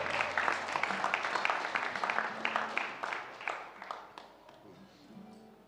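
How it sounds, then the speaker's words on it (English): Scattered clapping from a small crowd at an evening kirtan festival, moderately distant, tapering off gradually toward the end. "we can give it a round of applause for Bhakti Fest"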